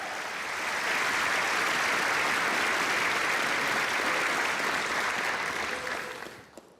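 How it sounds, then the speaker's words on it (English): A convocation audience claps in a hall, with dense, sustained applause that swells quickly, holds steady, then fades out near the end. "Another round of applause, please."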